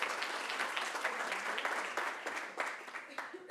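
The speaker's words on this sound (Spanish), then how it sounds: "Un aplauso." Audience applause at an economic seminar, a steady wash of clapping from a crowd that holds at an even level for a few seconds.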